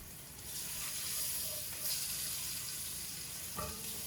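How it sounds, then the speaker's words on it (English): Jalapenos sautéing in a pan, a soft steady sizzle with faint hiss, fairly quiet and even throughout. "just getting a little saute going with the jalapenos, infusing some of this flavor"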